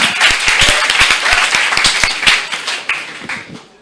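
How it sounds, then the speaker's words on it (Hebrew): An audience at a talk on madness applauds, a brief burst of many hands clapping close and lively, thinning out toward the end. "מותר למחוא כפיים, רצוי."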